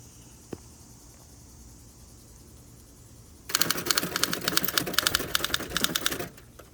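Rapid typing rattles on a 1960 Olympia SG-1 manual typewriter outdoors, a dense burst of keystrokes lasting about three seconds after a quiet stretch with faint outdoor ambience.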